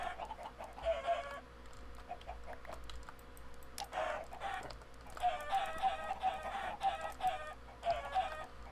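Chickens cluck repeatedly in the Minecraft video game, bursts of short clucks in clusters at a moderate level over soft keyboard typing, with no talking.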